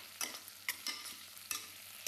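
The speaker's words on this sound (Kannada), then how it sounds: "ಆಮೇಲೆ 2 ಟೊಮೆಟೊ ಕಟ್ ಮಾಡಿದ್ದು ಹಾಕ್ತಾ ಇದ್ದಾರೆ." Chopped tomatoes, one native and one apple variety, hit a pan for Andhra-style dal and get stirred, giving a soft steady sizzle broken by a few sharp scraping strokes and a louder clatter at the end.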